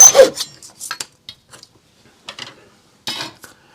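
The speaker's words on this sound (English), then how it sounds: "And then same again, just cut that on the little mitre block." A small saw cuts a model ship part on a little mitre block, giving a few short, quiet rasping strokes in separate bursts with silent gaps between them.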